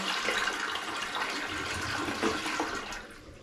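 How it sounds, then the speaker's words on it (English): A toilet being removed is flushed with the handle held down, a rushing, gurgling surge of water that stays strong and then begins to fade near the end. "we're going to go ahead and flush the toilet"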